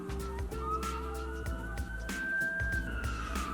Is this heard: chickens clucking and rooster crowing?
no